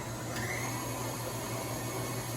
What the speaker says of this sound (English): We're gonna put the mixer on, so we have all of our ingredients in there, and we're just gonna mix that on up.